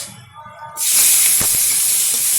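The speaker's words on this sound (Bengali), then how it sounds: "দিয়ে দিচ্ছি ধুয়ে রাখা চিংড়ি মাছ।" Washed prawns drop into hot oil with frying spinach greens and turmeric, setting off a sudden loud, close hiss and sizzle that holds steady after a quieter moment where a voice is briefly heard.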